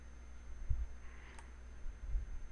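A computer mouse clicks through Photoshop menus in a quiet room, with a couple of soft, faint clicks over low background hum.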